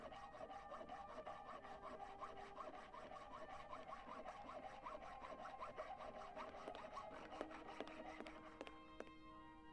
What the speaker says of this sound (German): War das das Geräusch einer Säge hinter der Tür?